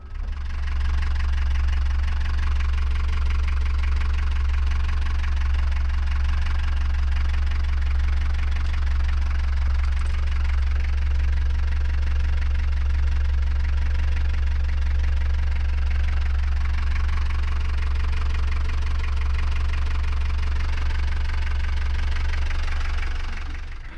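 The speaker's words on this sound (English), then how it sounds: "Let's run the engine and see if she leaks" An inboard boat engine idling steadily with a deep, loud, knocking rumble, close by and unchanging throughout, with no talking.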